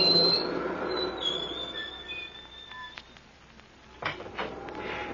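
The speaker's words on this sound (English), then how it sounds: "Hear that wail like a blooming banshee?" A ghostly wailing effect aboard a ship in a radio drama: thin, high, wavering wails and squeals drift at a moderate distance over a dull rumble, with a few sharp knocks near the end and no talking.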